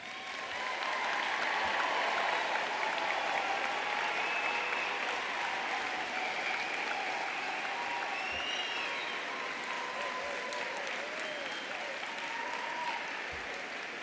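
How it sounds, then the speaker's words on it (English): Commencement ceremony crowd for a college of social work breaks into a long, sustained round of applause, dense clapping with faint cheers and whistles rising through it. "So let's just give a round of applause right now."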